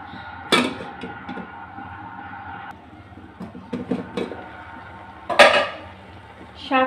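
Red amaranth greens get stirred and turned in a pan with a metal spatula, making a few sharp scraping clanks against a low steady sizzle, with pauses between the strokes.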